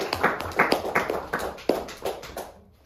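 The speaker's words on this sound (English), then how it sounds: "Let's give Joshua and the Israelites a round of applause." Scattered hand claps from a small audience at a Divine Principle lecture, a handful of distinct, uneven claps that trail off into silence after a couple of seconds.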